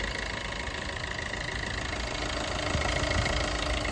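A 2016 Maruti Ertiga VDI diesel engine idles steadily, a close, even rumble with a faint rhythmic knock running throughout and no voices.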